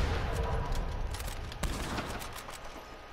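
Rapid gunfire from a Red Dead Redemption 2 shootout, dense overlapping shots crackling over a steady roar of game ambience, loud and continuous throughout with no talking.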